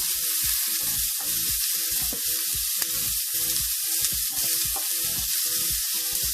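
Food sautés in a hot pan with a constant, bright sizzle, broken by a steady rhythm of low thumps and scrapes from stirring, close and loud with no talk.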